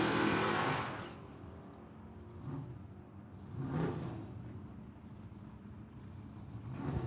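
A Pontiac Tempest and a Vega launch down a drag strip, the engines roaring loud at the start and then fading, with a few further rising bursts of engine noise from farther off.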